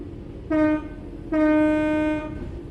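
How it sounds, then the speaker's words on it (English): Train horn in the Train Sim World 4 video game, two loud close blasts, a short one then a longer sustained one, over a steady low rumble of the train running on level track. "The train will then coast on level ground, and the train will only slow down very gradually."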